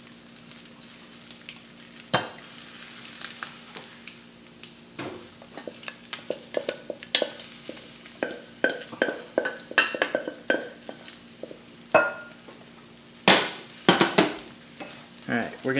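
Food sizzles and sputters in a pan while cooking for eggs with a bean and bell pepper salad, a fairly quiet fry broken by frequent sharp crackles and pops, with occasional utensil scrapes.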